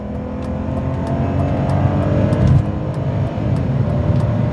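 A 2003 BMW 325ci accelerates hard in second gear, its engine droning and building steadily from inside the car, with a surge in the middle and no talk over it.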